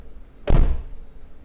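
A BMW E39 M5 car door swings shut with one solid, deep thunk, close and heavy, followed by quiet.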